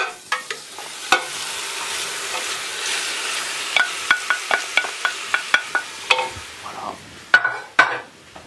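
Chicken pieces added to a hot pan and stirred, a continuous sizzle with a rapid series of sharp utensil taps and scrapes against the pan, close and fairly loud, with no talking.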